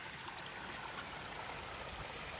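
Stream water cascading down a brushy mountain ravine on a trail, a constant, even rushing hiss close by with no pauses or other sounds.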